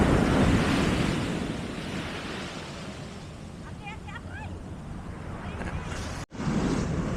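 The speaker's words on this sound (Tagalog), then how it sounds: "Malaki alon." Heavy surf rumbles and washes close by on a Zambales beach, with wind buffeting the microphone and a brief faint voice partway through.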